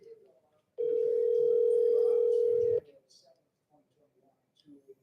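A steady telephone dial tone drones for about two seconds while a call is placed from a live show at the Oklahoma House of Representatives, with brief faint speech before and after it.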